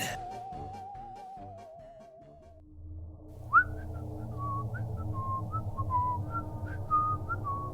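A clear whistled tune, first a wavering held note, then a series of short bright whistled phrases over a low hum in the background.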